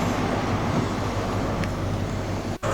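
HST trains 43102 and 43274 roll into Leicester station from London St Pancras on a driver training run, a steady broad rumble of rail noise that holds throughout with a brief dip near the end.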